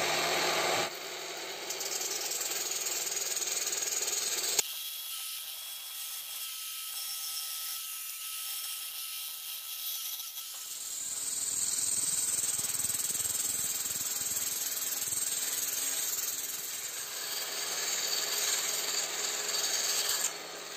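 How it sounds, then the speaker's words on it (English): Steady, dry rasping of sandpaper on the edges of a turned wooden piece, a continuous scratchy friction that pauses briefly midway before resuming, close and fairly quiet. "first I'm gonna sand all those edges"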